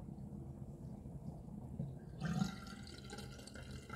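Cold tap water runs briefly in a bathroom sink for a rinse during a wet shave, a soft, low splashing that swells toward the end of the short clip, with no talking.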